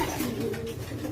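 A racing pigeon coos briefly in its loft, a soft low murmuring call heard close up.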